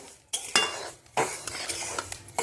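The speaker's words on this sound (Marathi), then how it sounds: "तर अशा प्रकारे हा सर्वप्रथम धणे भाजून घेणार आहोत." Whole coriander seeds being dry-roasted in a pan, stirred in short bursts that give a few scraping, rattling swishes with quiet gaps between them, close and fairly loud.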